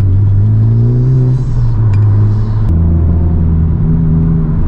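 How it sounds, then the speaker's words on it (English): A Nissan 370Z engine revs hard on a mountain drive, a loud close growl climbing and shifting pitch through several gear changes with a steady rumbling exhaust note. "Oh, that 370 sounds so nice."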